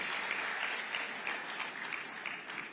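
A round of applause for the chief guest at a citizens' integrity awards dinner: steady, even crowd clapping that holds at a constant level throughout.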